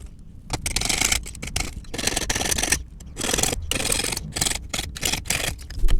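Metal bezel strip for setting an oval faceted stone is cut by hand, giving a run of close, crisp snipping and scraping strokes in quick irregular bursts with pauses between.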